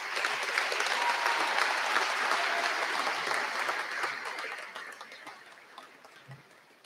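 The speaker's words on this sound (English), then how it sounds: "How about another round of applause for that?" Audience applause in a hall at a school presentation ball, a broad steady wash of many hands clapping that holds strong and then slowly tapers off toward the end.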